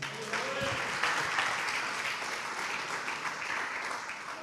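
Church congregation applauding during a Portuguese-language sermon, a steady wash of clapping that holds at a moderate level throughout with faint voices mixed in.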